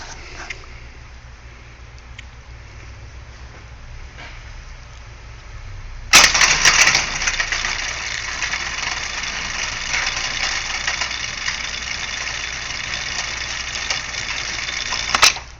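An overhead gate operator motor with an adjustable brake, quiet low hum at first, then a sharp clunk as power comes on and the motor runs loud and steady with a buzzing whine, no talk.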